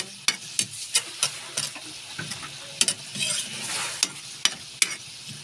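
Milkfish sizzles and spatters in a hot pan while a utensil clinks and scrapes against it in sharp, irregular taps.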